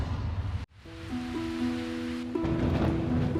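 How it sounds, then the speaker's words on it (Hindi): Heavy rain pours steadily outside a window in a cartoon scene, a continuous hiss of moderate loudness with a sustained low tone running beneath, briefly cut off near the start and growing denser toward the end. "वो खिड़की से बाहर हो रही तेज बारिश को देख रही है।"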